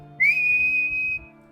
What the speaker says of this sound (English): So what I did is I made a whistling from my mouth